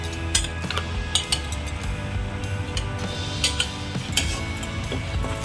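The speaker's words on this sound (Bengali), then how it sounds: "ভালো করে নাড়াচাড়া করছি" Prawns being stirred with jackfruit seeds and coconut in a pan on a low gas flame, a metal spoon clinking and scraping against the pan in irregular taps under soft frying sizzle.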